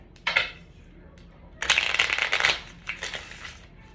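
Tarot cards shuffled by hand during a reading, with a brief riffle, a pause, then a longer, louder riffling burst followed by a few softer shuffling flicks, close and alone.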